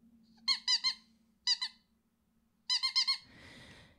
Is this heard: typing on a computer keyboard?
no